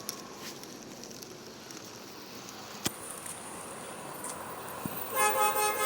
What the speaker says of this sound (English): Sound the horns.